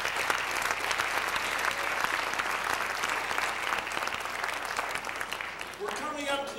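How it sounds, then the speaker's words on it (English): Sustained audience applause at a folk festival concert in Anchorage, a dense wash of clapping filling the room steadily for several seconds before a brief tonal sound near the end. "Please give them all a big round of applause."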